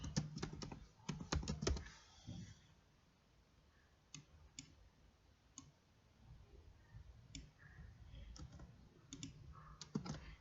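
Keys pressed on a computer keyboard as a Ctrl+D shortcut is used repeatedly, heard as a quick cluster of sharp clicks at the start followed by scattered single taps, fairly quiet and close.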